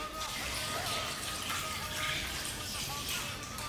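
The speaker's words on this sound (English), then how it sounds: "then you add the water over it" Water poured over meat and onions in a cooking pot for stuffed grape leaves and stuffed zucchini, a steady broadband splashing and trickling pour that runs the whole way through, fairly close.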